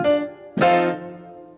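Piano playing a horn lick in octaves: two struck, sustained chords, the second brighter and louder, ringing out and decaying with no talking.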